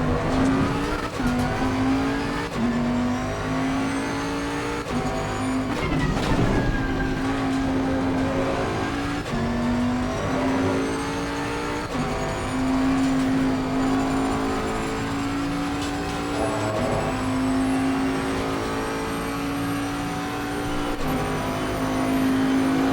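A 2021 Bentley GT3 race car in Assetto Corsa Competizione racing at Zandvoort, its engine loud and close, revving up through repeated gear shifts with occasional tire squeal and other cars around.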